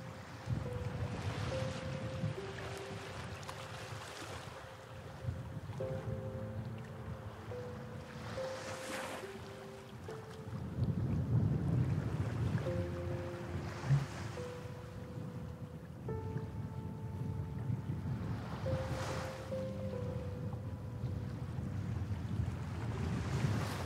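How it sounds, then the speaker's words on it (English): Ocean waves on a winter beach, rolling in and breaking in slow, regular surges that swell and recede, with wind buffeting the microphone throughout. "listening to the rhythmic sound of the ocean waves as they repeatedly ebb and flow"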